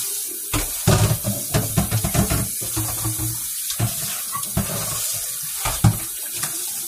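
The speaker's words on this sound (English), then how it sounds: "I'm washing my bowl up" Water runs steadily from a kitchen tap into a sink while a bowl is rinsed and handled, with clattering bursts and splashes over the continuous flow, close by.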